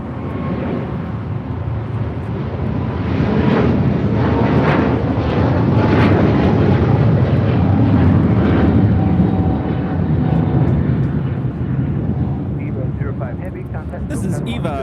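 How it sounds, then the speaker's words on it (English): An EVA Air Boeing 777-300ER taking off from LAX for Taipei, a loud, sustained jet roar that swells in the middle and eases off toward the end, with no voices. "This is Eva, Flight 5, taking off to Taipei on a 777-300ER."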